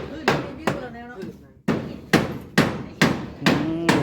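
Nails are driven by a hammer in a house, about ten sharp, ringing blows at an uneven, roughly half-second rhythm, close and loud.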